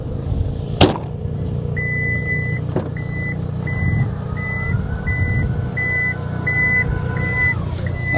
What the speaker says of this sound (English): If you want the full access, there's going to be a lot of beeping.